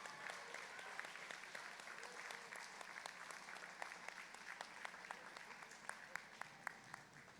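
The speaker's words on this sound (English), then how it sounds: "Round of applause for all three third place, second place, and first place winners of this award" An arena crowd at a FIRST Tech Challenge robotics qualifier applauds award winners: a faint, steady wash of distant clapping with a few sharper claps standing out near the end.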